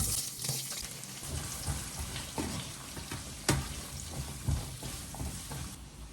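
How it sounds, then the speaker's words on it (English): Onions frying in hot oil for a Hyderabadi chicken curry, a steady close sizzle with occasional stirring clicks and scrapes, no talking. "Oil is hot. Let's add onions now."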